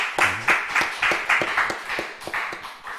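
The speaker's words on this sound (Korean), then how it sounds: "하나님께 영광의 박수 올려드리겠습니다." A church congregation claps together in a quick, steady rhythm, each clap close and clear with no voices over it.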